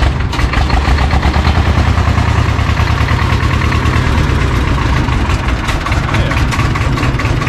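A tractor engine idles loudly and steadily nearby, with a low, even, rhythmic chugging throughout.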